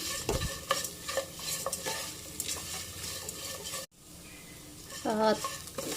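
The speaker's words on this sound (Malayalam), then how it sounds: "ഉള്ളിയൊക്കെ നല്ലതുപോലെ വഴണ്ട് വന്നിട്ടുണ്ട്, ഗോൾഡൻ കളറായി വന്നിട്ടുണ്ട്." Onions sautéing in a pan over a low flame for a pepper chicken dish, a steady close sizzle with frequent stirring scrapes, a brief dropout near the middle, then a voice speaking over the cooking toward the end.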